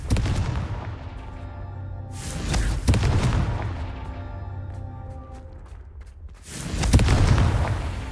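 In the video game Hogwarts Legacy, in a dwarf's mine, a Confringo blasting spell sets off heavy booming explosions: a big blast, a second sharp crack soon after, then another deep rolling boom near the end, loud and close.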